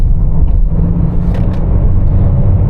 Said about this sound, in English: So sport mode, it holds the gears for longer to give you more torque